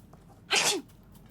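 A single sneeze from a character in the video game Murder in the Alps, one short loud burst standing alone against a quiet background.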